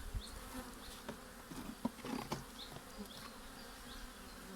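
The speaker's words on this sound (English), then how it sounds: "This seems as a very gentle bees in here." Honey bees hum steadily around an opened hive while a new swarm is fed, a soft continuous buzz with a few louder passes close to the microphone.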